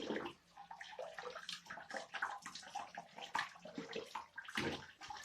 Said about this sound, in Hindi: मैंने इसी तरह एक एक पीस को उठाकर इसको जारी पानी में मैंने वॉश किया